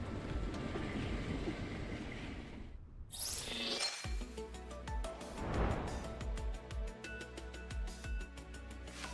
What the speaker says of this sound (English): Behind me, the intercontinental train pulls up.